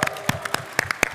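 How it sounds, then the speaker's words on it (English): A theatre audience at a PAX West 2024 gaming convention panel claps briefly, with sparse, separate hand claps rather than a dense ovation, close and fairly loud. "You're all clapping for yourselves."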